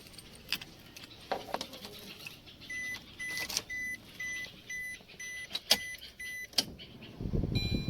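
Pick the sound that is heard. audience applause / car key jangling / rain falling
car key jangling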